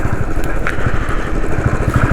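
A motorcycle ridden along a highway between Chandigarh and Kasol in Himachal Pradesh, its engine droning steadily and loud with constant road and wind rumble throughout, no voices.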